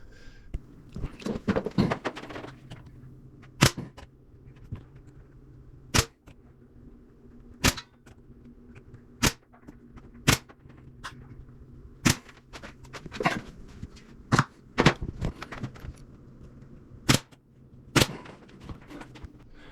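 A finish nail gun fires nails into a wooden closet shelf with about a dozen sharp, evenly spaced snaps over steady background noise. There is no talking.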